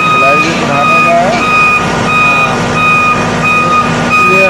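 An XCMG boom lift rumbles steadily after starting, with loud, evenly spaced beeps repeating over the engine while someone talks throughout.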